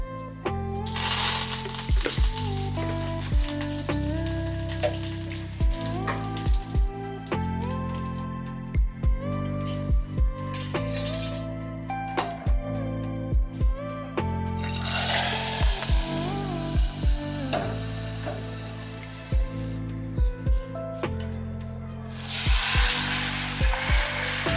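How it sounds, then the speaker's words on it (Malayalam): Mustard seeds crackle and sizzle in hot rice bran oil in a pan for a curry tempering, in bursts of hissing spatter under steady background music, with no talking. "അപ്പം അങ്ങനെ ചട്ടിക്ക് എണ്ണ ഒഴിച്ചിട്ട് പിന്നെ കടുക് ഇട്ടിട്ട് അങ്ങനെ കറി വറവിട്ടെടുക്കുന്നുണ്ട്"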